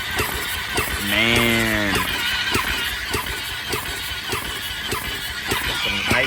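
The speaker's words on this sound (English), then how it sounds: "let's see what happens when I hit the starter button" A Ducati 1199cc engine swapped into a Honda Grom is cranked with the push-start button, its starter whine rising and sputtering over a steady background hum while someone speaks briefly.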